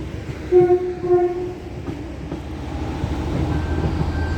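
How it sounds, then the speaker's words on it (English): Two short honks from a train horn ring out over the low rumble of a train, followed by a steady rolling drone. "The train just honked."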